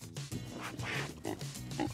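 Grunting oinks from a toy pig come in a quick run of short, nasal snorts, fairly close and moderately loud, with no speech over them.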